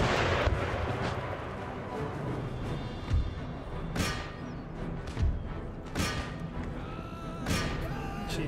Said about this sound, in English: they're getting hit by concentrated artillery fire